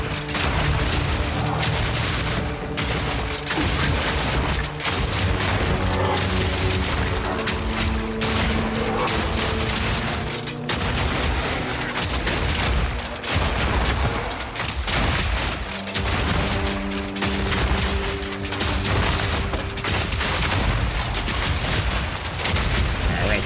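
Shotgun blasts in Path of Exile 2, a Witch Hunter build, come as a dense, continuous barrage of booming gunfire and explosions that runs loud and unbroken under layered game effects.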